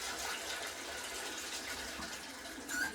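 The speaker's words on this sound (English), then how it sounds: "I'm gonna just fill up this bowl and keep dumping water" Water poured into a bowl in a kitchen while making vegetarian chili, a steady close splashing rush that runs unbroken and swells slightly near the end, with no voices.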